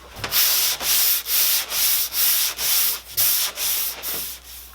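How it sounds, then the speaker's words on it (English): Rhythmic back-and-forth rasping of 80 grit sandpaper on a hand sanding block worked across the wooden back of an acoustic guitar, about ten close, even strokes with nothing else heard. "80 grit sandpaper on the bottom of this hand sanding block, and it's actually sanding off more than that random orbit sander"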